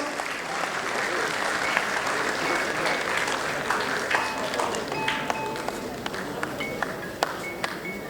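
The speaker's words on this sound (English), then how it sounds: "Please greet our faculty members with a thunderous round of applause." Sustained audience applause fills a convocation hall at R G Kar's 2022 ceremony, a steady dense clapping wash throughout, with scattered sharper individual claps standing out near the end and faint voices underneath.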